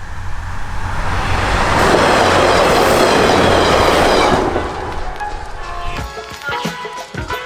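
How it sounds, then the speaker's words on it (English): A train passes close by, its loud rumble and rail clatter building and then fading after a few seconds, followed by quieter scattered noises. "Always getting stopped by trains."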